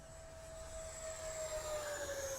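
An H-King Flycat V2 70mm 12-blade 6S EDF RC jet in flight gives a steady, loud ducted-fan whine with a rising tonal pitch, continuous throughout without talk.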